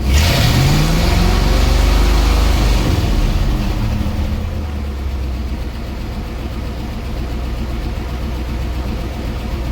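Car engine revving under light throttle out in the desert: a loud, close, steady mid-pitched roar that rises at first, then settles into a lower, even drone, with no talking.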